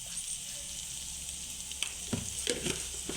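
Cluster beans (gavar) sizzle in a pan with chutney and salt as they are tossed, a continuous frying hiss broken by several sharp scraping stirs near the end, close up with no talking.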